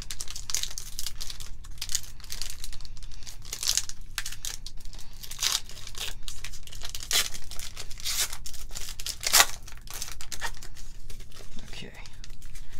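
A foil hot pack of 2017 Panini Classics football cards is crinkled and torn open close up, with soft scattered crackles and sharper rips spread throughout, under faint background hiss and occasional quiet voice.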